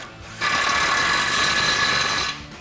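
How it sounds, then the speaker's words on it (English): An impact wrench with a 21 mm socket tightens a tie rod nut during an F-150 upper control arm suspension lift install, one continuous close, loud whirring burst lasting about two seconds. "we'll go ahead and tighten that back down with our 21 mil socket on our impact"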